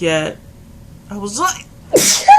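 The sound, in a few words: sneeze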